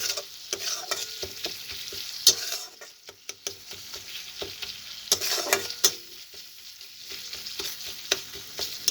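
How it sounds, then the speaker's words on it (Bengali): Spices for prawn malai curry fry in oil in a pan with a bright, crackling sizzle. Frequent close scrapes and taps from a stirring spoon punctuate it throughout, and no one speaks. "দেখুন মশলাগুলো খুব ভালোভাবে কষে যাচ্ছে"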